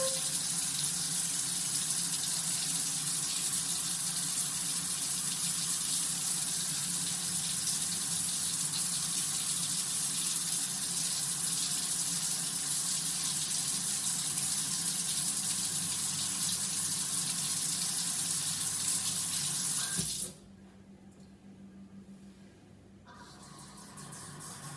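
Water runs steadily from a MOEN smart kitchen faucet into a sink, a loud continuous gush that stops abruptly near the end, leaving a quiet room hum.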